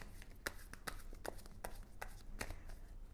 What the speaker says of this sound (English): I'm just trying to shuffle them well so that we get a nice, good reading.